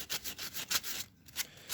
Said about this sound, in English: this medium sandpaper will rip through this nice and easy